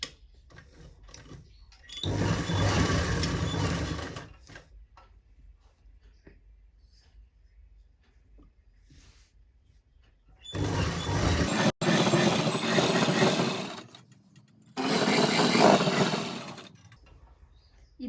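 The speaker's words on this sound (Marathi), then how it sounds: "शिलाई मारत असताना पहिल्यांदा शिलाई लॉक करून घ्यायची आहे" A sewing machine stitches palazzo pants in three separate runs, each a few seconds of close, rapid mechanical whirring, with quiet pauses between them.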